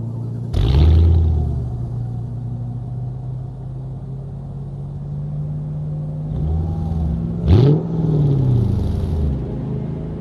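A Mercedes CLK55 AMG V8 with a quiet stock exhaust turns over and fires up with a short burst, then settles into a low, steady idle, with a second brief start or blip partway through.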